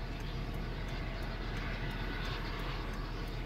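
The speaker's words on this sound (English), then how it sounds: "Helicopter just landed." A steady, loud rotor-and-engine roar fills the whole stretch with a faint regular thump, no voices, as a helicopter lands close by at a fire and car accident by the Sacramento River.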